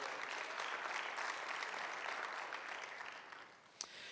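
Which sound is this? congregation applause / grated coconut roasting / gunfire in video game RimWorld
congregation applause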